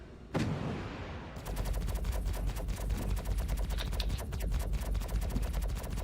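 Turret gunfire from a ship in the Star Citizen video game: a single sharp shot, then after a short pause a sustained, rapid stream of shots that continues steadily to the end at moderate loudness.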